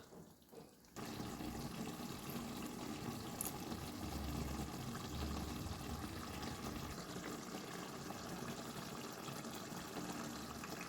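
Water is poured into a simmering tuna fish curry in a home kitchen, a steady continuous splashing stream that starts after a short pause and runs on unbroken, close and alone without talk.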